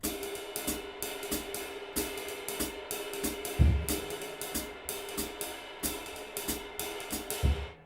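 A fast jazz drumming phrase alone on the kit, with rolling snare and tom figures over steady bright cymbal strokes and two strong bass-drum hits, close and continuous.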